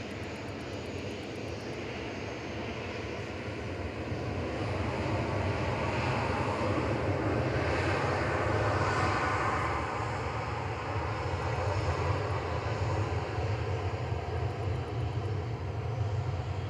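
A Ryanair Boeing 737-800 taking off from Manchester Airport for Rome gives a continuous jet roar that swells partway through and holds loud and steady, with a low rumble underneath.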